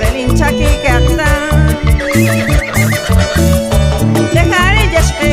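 A horse whinnies amid a loud Peruvian folk song from the Huascarán region, high neighing cries rising over driving instruments and a steady beat.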